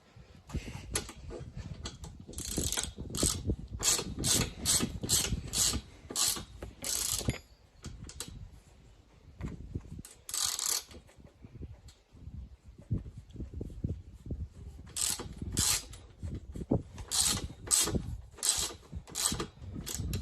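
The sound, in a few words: screwing a threaded part into place on a car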